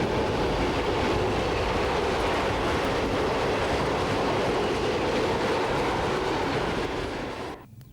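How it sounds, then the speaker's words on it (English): Late-running Italia Express passenger train from Rimini to Brussels rumbling past with a steady, loud roar and rail clatter for most of the stretch, cutting off abruptly near the end. "This is a late-running Italia Express from Rimini to Brussels."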